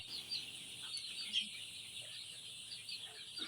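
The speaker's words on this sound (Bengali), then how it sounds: "আমি তোমাদেরকে দেখাচ্ছি আমার স্বপ্ন মিক্স প্রজেক্টের সোনালি মুরগি যাদের বয়স আজকে বিশ দিন" Twenty-day-old Sonali chickens on a farm give faint, soft clucks and peeps against a steady background hiss.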